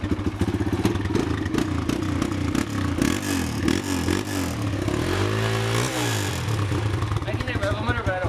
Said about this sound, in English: I can hit rev limiter, but I don't want to